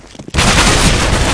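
A loud burst of M4 rifle fire in a video game, beginning abruptly after a quiet moment and continuing as a dense, sustained roar of shots.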